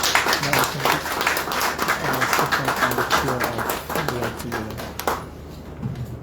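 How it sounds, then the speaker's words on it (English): Audience applause for the chair at a regulation signing event, a burst of clapping mixed with voices and a low hum, cutting off sharply near the end and leaving a quieter tail. "Another big hand of applause to the chair"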